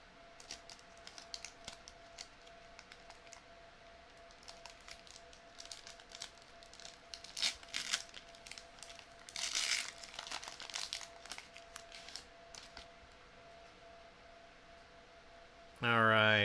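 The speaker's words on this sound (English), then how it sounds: "Oh man, yeah, I'm just gonna scissors this last pack." Scissors snip open a Magic: The Gathering Fallout collector booster pack, with close crinkling foil rustles and scattered clicks over a faint hum, then a loud burst of crackling at the very end.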